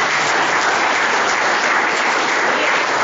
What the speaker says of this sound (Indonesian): ini tepuk tangan buat salah satu wanita FKI ini